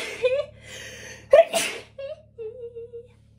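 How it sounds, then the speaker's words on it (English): A single sharp human sneeze bursts out midway, close and loud, with brief soft vocal sounds around it. "Interesting that I'm gonna sneeze."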